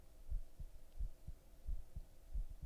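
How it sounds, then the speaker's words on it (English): A faint heartbeat sound effect in a video game beats in steady double thumps, lub-dub, about four times, low and muffled over a quiet hum. "Oh, do you hear the heartbeat?"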